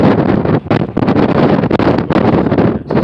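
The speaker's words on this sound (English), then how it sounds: "This wind is something else up here. It's been windy all day." Loud, blustery desert wind roars and buffets the microphone in uneven gusts, with brief lulls between strong blasts.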